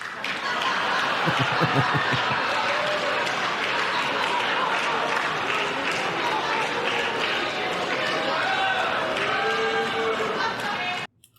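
An audience at a Trump speech applauding in sustained, even clapping that fills the room, with faint chuckles and murmurs mixed in before it cuts off abruptly.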